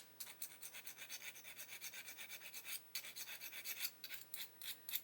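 Hand filing on a part of an Avro Lancaster B.III Dambuster scale model, giving repeated rhythmic rasping strokes, close and fairly quiet, with no talking.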